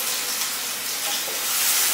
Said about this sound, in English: I'll fry this onions first.